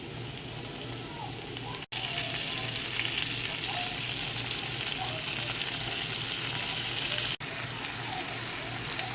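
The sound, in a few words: cabbage frying with onions in a pan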